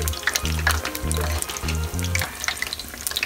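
Eggplant fritters fry in hot oil with a busy crackling sizzle, close by, while brief low stirring or handling thumps recur in a loose rhythm; no one talks.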